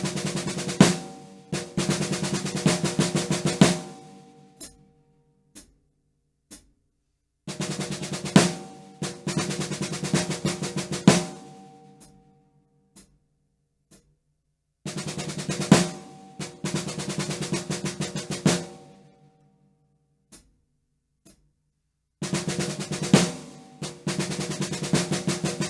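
Drum kit fill built from two nine-stroke rolls, one on beat one and one on beat three, played in four loud bursts of rapid snare strokes with ringing cymbals, separated by short gaps and counted clicks, with no talking.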